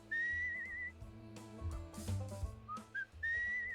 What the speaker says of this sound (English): How am I a whistling skeleton?